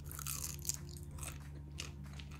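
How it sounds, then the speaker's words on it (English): Homemade cheese crisps made from a single ingredient, crunched and chewed close up: a steady run of crisp bites and crackling chews with no voices. "It kind of gives you the crunch of a real Cheez-It."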